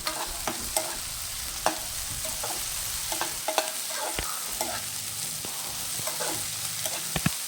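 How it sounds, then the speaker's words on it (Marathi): Chopped tomatoes are sautéed in a hot pan for masala Maggi noodles. The oil sizzles steadily while a spoon stirs with regular scraping clicks, close up and without talk. "छान परतून घ्यायचं."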